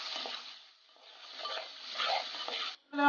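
A ground masala paste with chili powder, turmeric and mutton masala sautés in oil for a koli-style prawn curry, giving a faint, steady sizzle with soft scraping surges as it is stirred.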